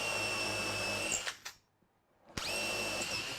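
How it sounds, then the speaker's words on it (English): A Pro Tool electric drill with an electronic clutch whirs steadily at high pitch, stops briefly for a moment of near silence, then spins up again and keeps running. "This is a lovely drill."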